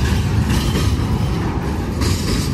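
A long train rolls past close by with a continuous heavy rumble and rhythmic clatter of wheels, loud and unbroken, with no voices.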